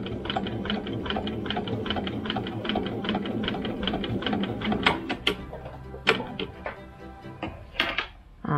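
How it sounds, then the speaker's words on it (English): A sewing machine stitches binding onto the front of a quilt, running in a steady, rapid mechanical chatter with small pauses and clicks toward the end, close and loud with no talking. "Working on stitching the binding on the front of the quilt now"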